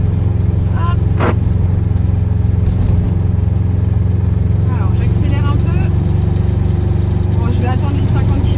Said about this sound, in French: Hop, juste après le virage, je vais accélérer un tout petit peu.